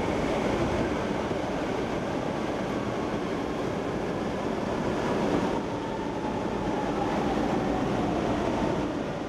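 Continuous rumble and rattle of an MRT metro train in Manila running along the tracks, steady and fairly loud throughout, with a faint rising whine midway.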